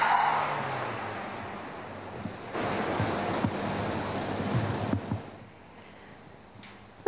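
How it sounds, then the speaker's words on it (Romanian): A community police patrol car making handbrake turns on an icy road at night in Sibiu, heard as a steady broad engine and tyre roar with wind-like noise, shifting in level partway through and fading near the end. "Întoarceri cu frâna de mână și mașini parcate pe post de jaloane au fost distracția serii pentru omul legii"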